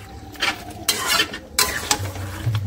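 A spoon scrapes and turns chicken meat in a pan while cooking a spiced Bengali chicken kosha, giving repeated close scraping strokes over a low sizzle, with no talking.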